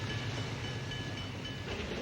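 A small-scale model train runs along its track with a steady, dense mechanical rumble and hiss, continuous and evenly loud throughout.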